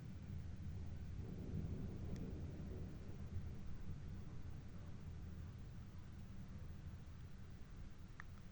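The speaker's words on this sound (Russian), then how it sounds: "Просто сухой гром гремит." Dry thunder rumbles at night in Zaporizhzhia with no rain falling, a continuous low, distant roll that fills the whole stretch under a steady noisy wash, with no voices.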